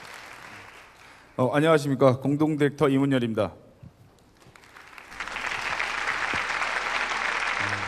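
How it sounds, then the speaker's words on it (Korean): Audience applause at the 2018 Miss Glorize Korea pageant, a man's short greeting first, then a steady wash of clapping from the crowd rising and holding to the end. "큰 박수로 들어볼까요?"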